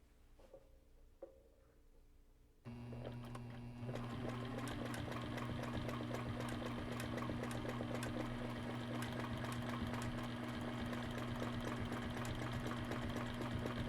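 A sewing machine stitches quilt pieces for a wedgie set of triangles. It starts abruptly after a few quiet seconds, then runs as a steady, continuous mechanical hum and whir close by.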